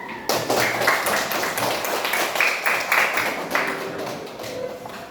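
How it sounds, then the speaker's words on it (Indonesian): A fifth-grade elementary classroom at SDN 17 Banawa breaks into applause, many children clapping together in a close, lively patter that fades slightly toward the end. "tepuk tangan dulu"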